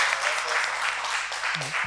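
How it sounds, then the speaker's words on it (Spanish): Applause from an audience after a talk on science fiction cinema, a loud, dense burst of clapping heard throughout, with a brief voice near the end. "Un aplauso"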